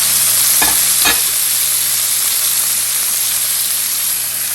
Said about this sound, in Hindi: अब भी हम इसमें शामिल कर देंगे टमाटर